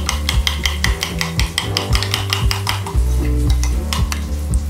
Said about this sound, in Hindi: इस तरह से स्पून से ऐसे मिक्स कर लें, अच्छी तरह से फेंट लें